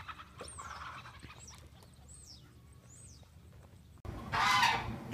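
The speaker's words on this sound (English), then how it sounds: "Well, there's a big chicken going" Free-range chickens at Polyface Farm give several squawking clucks and calls over a quiet outdoor background, followed by a sudden burst of louder rustling noise near the end.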